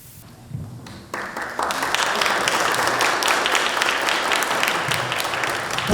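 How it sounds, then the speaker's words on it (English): Scattered claps start quietly, then swell within a second into full, sustained applause from a sizable crowd at a school hall of fame ceremony, loud and steady to the end. "I thank you for the applause"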